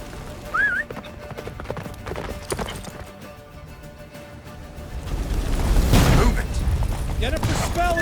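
Roach the horse galloping in The Witcher 3, rhythmic hoofbeats under battle noise, booms and a rising blizzard-like roar, with a short shouted voice.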